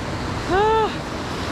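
A mountain river flows near the Altyn-Arashan hot springs in Kyrgyzstan, giving a steady, broad rushing wash throughout, with a brief rising-and-falling tonal call standing out midway.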